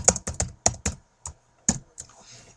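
Short bursts of keystrokes on a computer keyboard come close and clear, a quick cluster of taps followed by a few separate presses with quiet gaps between them.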